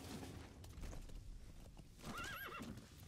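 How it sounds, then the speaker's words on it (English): D-Horse, a horse in Metal Gear Solid V, clip-clops with steady hoofbeats under a low game rumble, then lets out a loud, wavering whinny near the end. "I'm gonna have D-Horse here."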